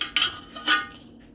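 Metal spoon knocking and scraping inside a pot of cooked chicken pulao rice, two sharp clinks a half-second apart with softer scraping between, close and alone.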